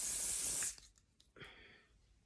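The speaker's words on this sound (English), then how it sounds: "hairspray is a good one because it dries really quickly" Hairspray can spraying onto hair during a vintage set, a loud close hiss lasting under a second that cuts off, followed by faint rustling and a short softer spritz.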